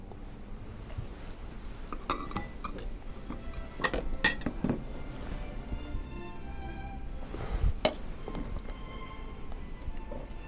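A spoon clinks against a jar or bowl while heaping tablespoons of Living Tree cashew butter are scooped out, giving a few scattered, close metallic taps over a quiet kitchen background.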